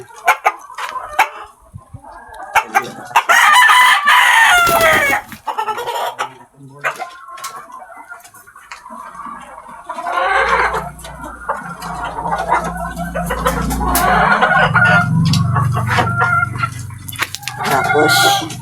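Free-range bulik rooster crowing among clucking hens at afternoon feeding time in a backyard coop, a loud crow near the start followed by steady nearby clucking and scratching, with a voice talking at times.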